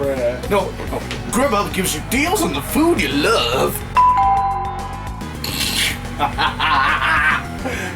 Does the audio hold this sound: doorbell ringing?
yes